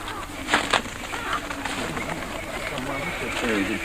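A large flock of pigeons arriving on a coral cay, with soft wingbeats and cooing mixed with voices talking nearby in the background.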